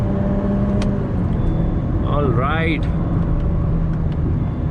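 A 2020 Honda Civic drives at high speed, giving a steady, loud broadband road and engine rumble from inside the cabin throughout, with a brief spoken word and a short rising whine midway.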